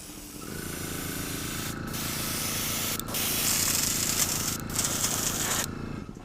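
Steady airbrush hiss spraying paint onto fishing lures continuously at close range, broken by a few brief pauses, with a low mechanical hum underneath.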